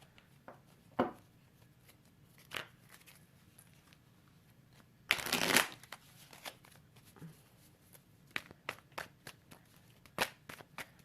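Tarot cards are shuffled in scattered bursts, with soft riffles and taps close by, a longer dense flurry in the middle and quiet pauses between, and no voices.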